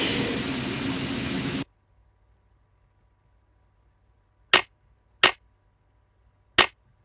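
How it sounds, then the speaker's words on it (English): Steam from a train engine in the Nancy Drew video game Last Train to Blue Moon Canyon hisses through pipes in a steady burst. It cuts off abruptly and is followed by quiet and three sharp, separate clicks. "Sounds like steam from the engine is moving through those pipes now."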